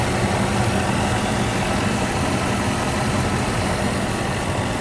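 The engine of a 1997 Mercedes-Benz S500 with 92k original miles idles smoothly, a steady, close, low rumble throughout with no voices.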